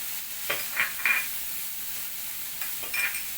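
Carrot and cabbage being sautéed in a pan for corn paratha, with a faint steady sizzle and a few soft spoon-stirring scrapes spaced through the short stretch; no talk.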